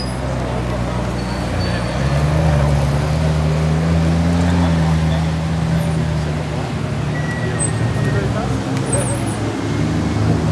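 Cars drive past near the Nürburgring, a steady roadway rumble with engine drones rising and fading at a moderate distance, while people talk over it throughout.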